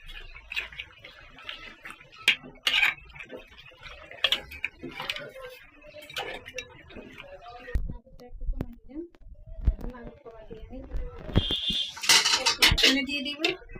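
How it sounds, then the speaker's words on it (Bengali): Beef cooking in a pot is stirred, giving scattered metallic clinks and scrapes of a spoon against the pot under ongoing talk and kitchen background noise. "মাংসটা একটু লাড়ি দিই,"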